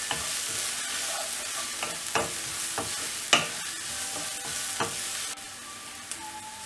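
Spinach and vadagam fry in a pan with a steady broadband sizzle, broken by repeated scraping stirs of a spoon or spatula, with no voices.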